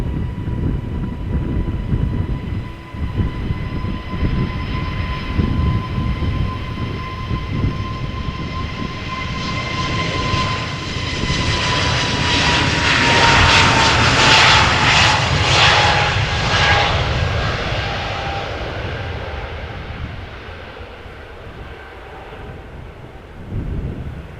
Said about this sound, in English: Speedbird flight 431 A321neo outbound to London Heathrow.